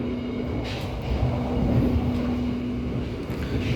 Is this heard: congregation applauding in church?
no